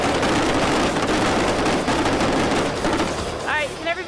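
Film-set squibs fire into the ground to mimic bullets ricocheting, a dense rapid crackle of loud pops and gritty bursts running continuously, with a brief voice near the end.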